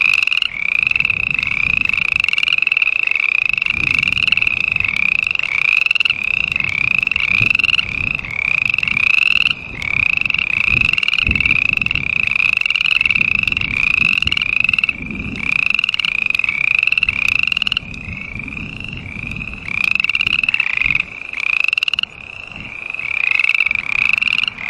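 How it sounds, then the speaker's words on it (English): A frog croaks loudly and steadily in a near-continuous rhythmic chorus, close and clear, with no talking throughout. "Frog."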